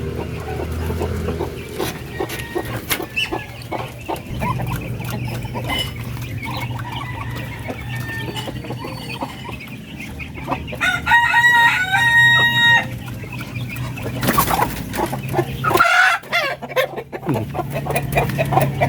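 Native Filipino Parawakan breeder chickens cluck and crow during feeding, with close clucking throughout and a loud crow midway, over a constant background hum.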